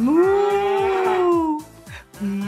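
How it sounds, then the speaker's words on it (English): A loud, close cow moo rises and holds for over a second, followed by a shorter second moo, over a rhythmic musical backing beat. "It's fun to moo like a cow."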